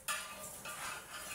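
A dosa being flipped on a hot pan, a single scrape and clatter of the spatula against the pan followed by sizzling hiss, close and alone.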